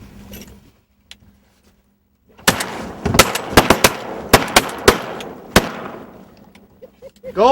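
Duck hunters fire shotguns during a sea duck hunt on the water near Poquoson, giving a rapid volley of about ten sharp, loud blasts, with voices before and after.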